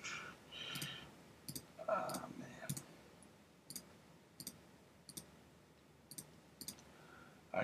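A computer mouse makes about a dozen sharp, close clicks at irregular intervals while someone edits in Photoshop. A quiet voice murmurs faintly near the start.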